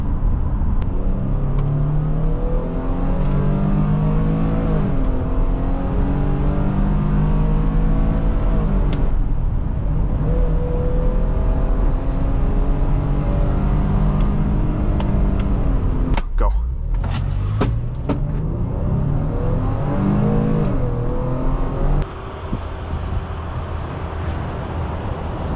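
Steady engine drone and road hum inside a 2020 Ford Police Interceptor Utility SUV with a 3.3L engine under acceleration, continuous throughout with a person talking over it most of the time.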